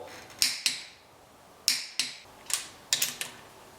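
Sharp metallic clicks from a torque wrench, mostly in close pairs, come as bolts are tightened on an abandoned 1956 Chevy engine, each crisp and moderately close against a quiet background.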